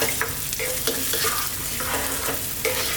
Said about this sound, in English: And now we're going to stir this around